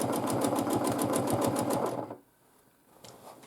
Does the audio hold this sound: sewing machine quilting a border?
yes